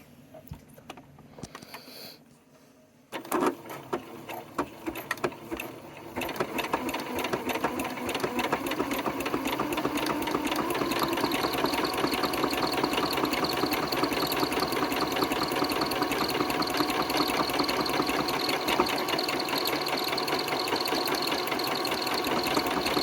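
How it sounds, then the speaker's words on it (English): A sewing machine stitches a buttonhole. A few brief handling knocks come first, then a close, steady motor whir with a rapid, even needle rhythm runs without break, with no talking. "now this is where we let the machine do the work."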